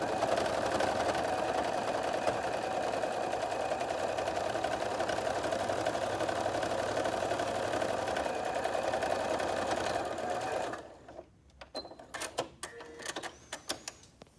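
A sewing machine stitches a curved seam on a lid with lining, a steady close mechanical whirring for about ten seconds, then stops, followed by a few faint handling clicks.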